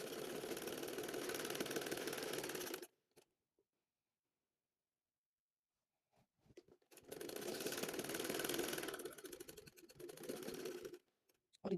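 A sewing machine stitches a baby shirt in two bursts of steady mechanical whirring, the first about three seconds long and the second around five, separated by silence.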